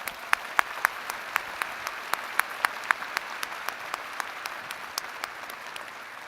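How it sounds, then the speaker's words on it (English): Audience applause at a winter 2023 university commencement, a steady wash of clapping across the hall with a few sharper individual claps standing out, moderately distant and sustained throughout. "let's give you a round of applause"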